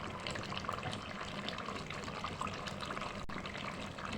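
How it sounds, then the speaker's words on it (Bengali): Hot water poured into a pot of cooking beef, a steady, fairly quiet rushing pour that runs continuously with no talking. "এখানে গরম পানি দিচ্ছি।"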